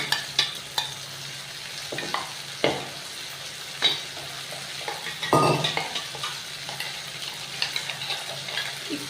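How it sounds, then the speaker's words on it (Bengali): Spice masala being fried and stirred with onions in a pan, a continuous soft sizzle broken by repeated scrapes and knocks of a spoon against the pan, up close with no talking. "এই মশলাটা পুরো দিয়ে এবার আবার মশলাটাকে ভালো করে এখন আমি কষাবো"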